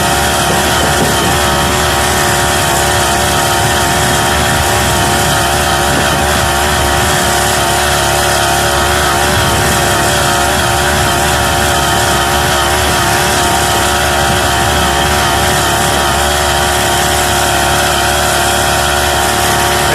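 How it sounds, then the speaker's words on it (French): The small engine of a Gutbrod Motostandard motorized cultivator drones steadily and loudly the whole time, with rushing wind noise layered over it and no pauses. "entre le bruit du moteur dedans et puis le vent"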